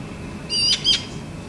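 Baby magpies squeak from a tree in two short, high, thin bursts close together in the middle, clear against a quiet outdoor background.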